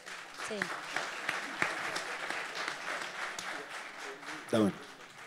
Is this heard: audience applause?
yes